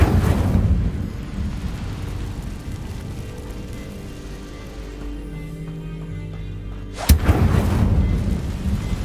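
An Incendio fire spell is cast in Hogwarts Legacy and erupts in a loud whooshing burst over a rumbling, blustery backdrop, followed by a sharp blast near the end.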